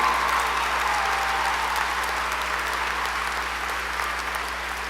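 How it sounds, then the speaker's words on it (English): Large audience applauding at a university honors convocation, a long steady roll of clapping in a big hall with a low steady hum beneath that tapers slightly toward the end. "Give these people a round of applause"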